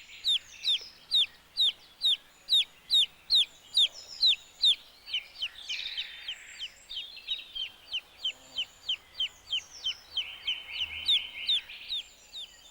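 Baby chicks peep in a rapid, steady stream of high, shrill chirps, a few overlapping calls bunching up near the middle; no separate pecking taps stand out.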